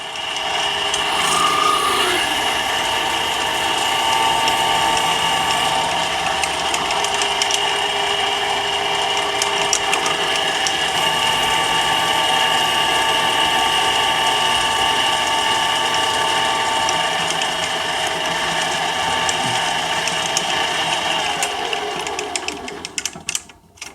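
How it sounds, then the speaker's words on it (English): Steady mechanical grinding and rasping of a tool boring a hole into a two-color dip pen part, continuous and fairly loud for the whole stretch with no voices. "I'm going to going to go ahead and square that off since I'm here. And bore my hole."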